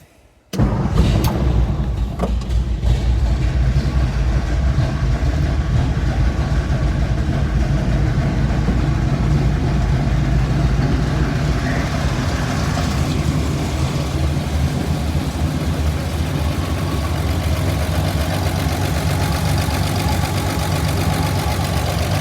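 A 1963 Ford F100 pickup engine starts on a little choke and idles steadily, a rough mid-pitched rumble with a faint knocking, running continuously nearby with no voices.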